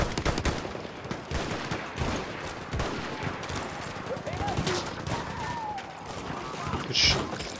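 Rapid gunfire from an online war shooter on a Giant Shadow map with an M1907, a dense run of close shots and crackling bursts throughout, with a voice occasionally speaking over the fighting.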